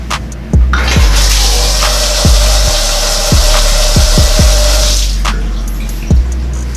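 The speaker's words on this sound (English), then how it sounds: "just run the water inside the tub" Water pours steadily into a hotel bathtub with a loud rushing hiss, punctuated by several sharp knocks and thumps, then shuts off.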